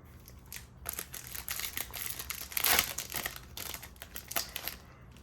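Plastic wrapping on 2022 Topps Formula 1 trading cards crinkles and crackles close up in quick irregular bursts, with one louder crumpling peak midway and no talking.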